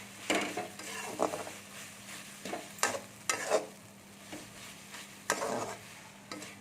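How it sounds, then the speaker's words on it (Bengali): Fried okra and chillies being mixed with a turmeric and salt spice paste in a pan, several separate scraping stirs over a faint sizzle, fairly quiet and close. "দিয়ে এর সাথে ভালো করে মাখিয়ে নিতে হবে মশলাটাকে।"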